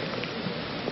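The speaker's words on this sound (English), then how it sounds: "the rain is really coming down now" Heavy rain pours down steadily during an outdoor Mayor's Cup youth sports final, a dense, even hiss of drops with faint scattered patters, no voices over it.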